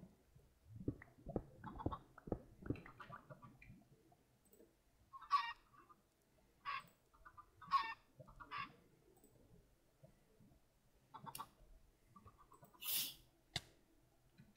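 Chickens in Minecraft cluck in short, spaced bursts, fairly close and moderate in volume, with a soft low rumble early on and no voices.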